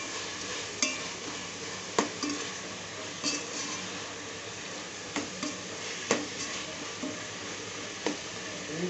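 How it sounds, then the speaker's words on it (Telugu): Chopped tomatoes frying in a pan for mushroom biryani, giving a steady soft sizzle with sharp clicks and taps of a stirring spoon at intervals, close and continuous with no talk. "టొమాటో బాగా వేగనిద్దాం మెత్తగా."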